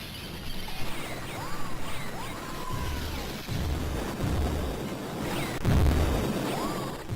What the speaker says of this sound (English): Here they come again with the cannons.